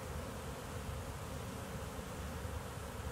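Honeybees swarming busily around backyard hives on a mild 52-degree first day of winter: a dense, continuous buzzing drone, close and steady throughout.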